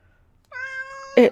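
A house cat gives one clear, tonal meow that rises and holds, then ends in a short, louder, rougher burst, close to the microphone in an otherwise quiet room.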